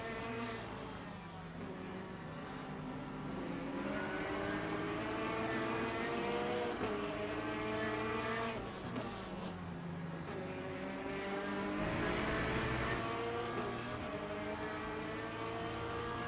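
Race cars in the Le Mans Ultimate sim racing game, including a Corvette, drone with a steady, harmonically rich engine tone that rises and falls with gear changes throughout, loud and continuous without talk.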